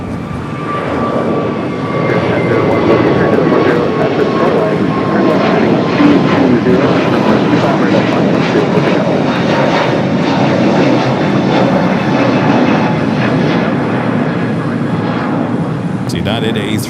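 A United Airbus A321neo bound for Denver passes at Los Angeles airport with a loud, sustained engine roar and whine that swells after a couple of seconds and holds steady, a voice speaking over it.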